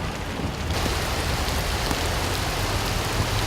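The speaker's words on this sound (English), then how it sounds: "The water is just rising so quickly and the rain is so persistent" Heavy, persistent rain pours steadily during a flood, a dense continuous hiss of drops on surfaces with no let-up and no voices.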